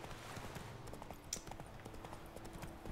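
A horse's hooves clop along in The Witcher 3 as a steady rapid patter of soft hoof beats at a walking-trot pace, faint and continuous under quiet game ambience.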